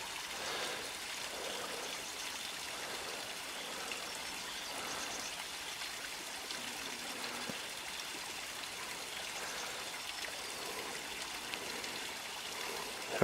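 A small waterfall in a ravine, fed by a spring-fed brook, in April, gives a steady, dense rush of falling and splashing water that holds constant for the whole stretch, close by and with no voices.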